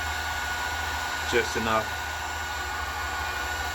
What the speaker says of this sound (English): using the heat gun, I'm gonna heat up this area.